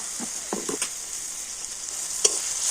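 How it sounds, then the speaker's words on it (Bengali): Spices such as turmeric, coriander and cumin powder fry in a little oil under a soft steady sizzle, with several quick stirring scrapes of a spoon early on and one more near the end. "আর সমস্ত মশলাগুলো আর একটু তেলের সাথে সব কিছু কষিয়ে নেব"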